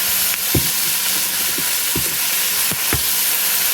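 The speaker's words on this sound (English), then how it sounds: "I'm going to saute these onions and peppers up" Onions and peppers sautéing in a pan, a dense close sizzle under a few sharp taps and scrapes of a spatula as the vegetables are stirred, no talking.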